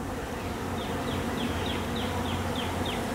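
Honey bees drone in a dense, steady buzz around a new hive after swarming, with individual bees whizzing past the listener at intervals.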